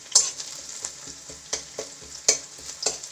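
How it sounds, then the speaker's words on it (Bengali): Onions frying in a pan at home, a steady sizzle broken by regular stirring scrapes and taps about every half second, close and moderately loud with no talking. "পেঁয়াজটা বেশ ফ্রাই হয়ে এসছে।"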